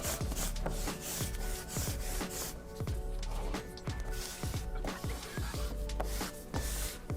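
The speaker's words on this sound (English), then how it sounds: "grab your squeegee and just tack it down" A squeegee rubs across a vinyl decal to tack it down flat, in repeated short scraping strokes that come close up and fairly quiet in an irregular rhythm.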